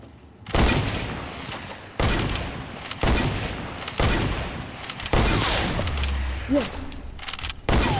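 Gunfire in an online shooter video game: several loud bursts of shots at irregular intervals, each sharp crack trailing into a rumbling decay, with a player's voice heard briefly among them.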